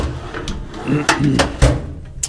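A Mac Tools toolbox drawer without drawer pads slides shut with a few sharp metallic clacks and knocks, close and fairly loud, over a faint background murmur.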